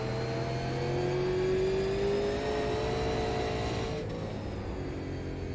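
A Super Late Model race car at New Smyrna in iRacing accelerates, its engine drone rising steadily in pitch with a clear tonal whine before easing back near the end. The engine is heard alone and fairly close.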